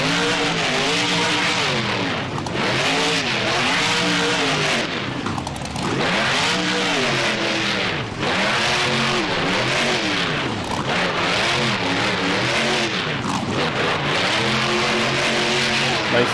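Monster truck engine in BeamNG revving hard and continuously, with rising and falling pitch sweeps as the truck launches off ramps and lands, loud and close throughout, with brief throttle dips between bursts.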